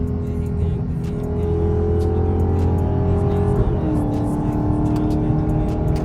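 A Dodge Hellcat engine drones steadily at close range, its pitch shifting as gears change partway through, with a voice talking over the engine noise.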